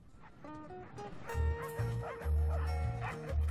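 Several dogs at a dog adoption bark, yip and whimper in quick overlapping bursts, close and fairly loud, with no speech.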